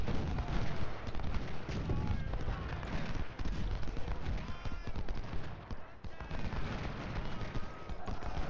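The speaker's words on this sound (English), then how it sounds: "let's have all of our artillery come down" Dense, continuous battlefield din of cannon and musket fire from artillery batteries in the Civil War strategy game Ultimate General Civil War, rumbling without a break across the whole stretch.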